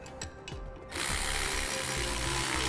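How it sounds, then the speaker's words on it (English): A socket ratchet clicks rapidly and steadily while tightening bolts on a B&W heavy-duty trailer hitch receiver being fitted to a 1986 Chevrolet, loud and close, with no talk. "Once we have it started, we'll go ahead and tighten them down. We'll use a 3/4-inch socket to do so."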